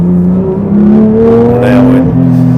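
A Porsche 992 GT3 Touring engine in sport mode hums steadily and climbs slightly in pitch, loud and close, with a smooth continuous drone and no speech.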